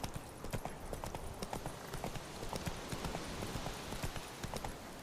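Roach the horse gallops in The Witcher 3 video game, with fast, rhythmic hoofbeats clopping steadily and fairly close over a low background rumble.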